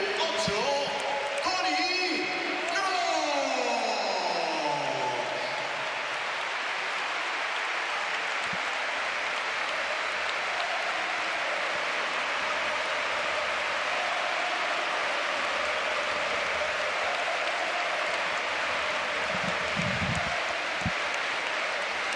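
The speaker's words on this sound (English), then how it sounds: "Another standing ovation for a Real Madrid player who's played his part tonight, and he applauds back." Stadium crowd at a Real Madrid versus Barcelona match rising into a sustained standing ovation for a substituted Real Madrid player, broad steady applause and cheering filling the whole stretch under a commentator's talk.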